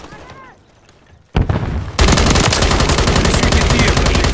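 Call of Duty gunfire erupts after a quiet opening, a sharp burst that swells into loud, sustained automatic fire with rapid rattling shots filling the rest of the clip.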